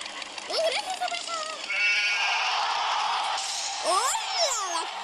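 A sheep in a farm video game bleats loudly in wavering cries, with a tractor-themed game's buzzing, noisy music running underneath and excited talk over it.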